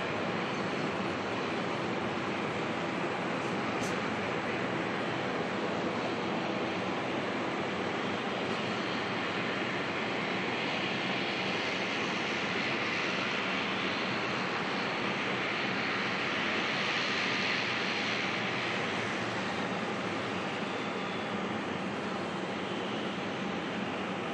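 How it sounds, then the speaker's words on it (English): A passenger jet, Qantas flight QF155 arriving from Melbourne, approaches Auckland Airport at night, its engines a steady broad roar that holds throughout and swells slightly toward the end, with no talk. "Oh, there's a plane."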